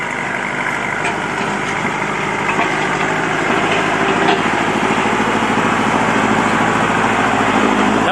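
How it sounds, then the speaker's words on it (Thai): A Kubota L5018 or L4018 four-wheel-drive tractor with a rotary tiller runs at full work in gear 2 high, a loud, constant engine drone with a rough mechanical rattle throughout. "นี่ครับโกวินทำงานนะครับทำงานเต็มนะครับ"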